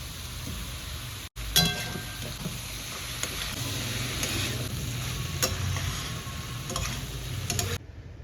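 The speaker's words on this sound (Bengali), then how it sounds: "1 কাপ মুগ ডাল আমি এখানে ভেজে নিচ্ছি" Steady sizzling and crackling of moong dal frying in a hot pan, with occasional stirring scrapes, close and continuous for several seconds.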